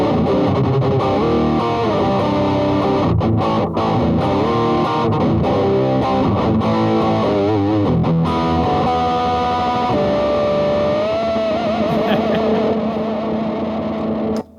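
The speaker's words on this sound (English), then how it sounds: "This is a Boss Turbo distortion with the turbo on." An electric guitar played through a Boss Turbo distortion pedal with the turbo mode on, thick saturated chords and bending sustained notes at a loud, constant level, cutting off abruptly at the end with no talking.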